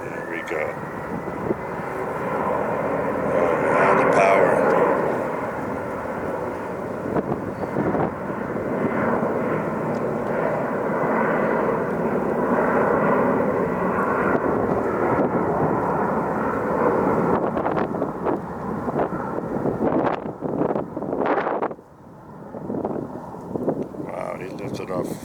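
A Prime Air Boeing 767 roars down the runway on takeoff at Phoenix airport, a loud, sustained jet rumble that swells and then fades as it climbs away, with wind buffeting the microphone near the end.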